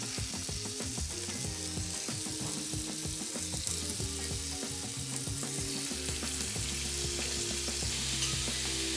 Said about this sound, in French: vous pouvez ajouter un petit peu d'huile d'olive, donc toujours dans la même poêle, pour faire revenir juste un tout petit peu doré là vos encornets